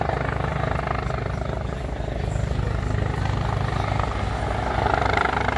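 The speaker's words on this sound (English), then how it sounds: "The helicopter arriving is based out of Hampton, New Jersey, and is owned and operated by the New Jersey State Police." A New Jersey State Police helicopter arriving at a crash scene, its rotor thrumming steadily and loudly overhead, a dense continuous chop that swells slightly toward the end.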